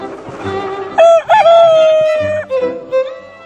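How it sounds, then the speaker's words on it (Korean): Rooster crowing once with a long, loud, drawn-out call among a flock of red-feathered chickens let out onto open grassland, with soft clucking before and after. "닭의 화려한 외출이 시작됐다."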